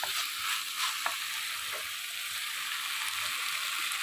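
Ginger and garlic fry in a pan with a continuous bright sizzle, heard alone and fairly close, with a few faint stirring clicks.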